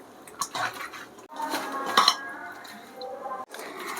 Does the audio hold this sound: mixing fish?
yes